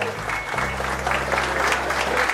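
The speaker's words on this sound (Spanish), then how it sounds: "Los aplausos, hermanos angelistas." Applause from mourners at a funeral farewell in Casa Grande, a steady broad wash of clapping across the whole moment with a low hum underneath.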